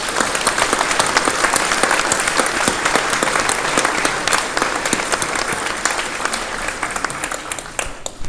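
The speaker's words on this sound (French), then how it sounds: "on peut les applaudir." Sustained applause from an audience at a mayor's New Year greetings ceremony in Lieusaint, clapping in honour of the firefighters; dense, steady clapping that fills the whole stretch, tapering slightly near the end.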